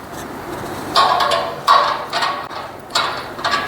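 A bolt is tightened on the clamp of a power sewing machine during setup, a series of close, loud ratcheting clicks in short bursts separated by brief pauses, no talking.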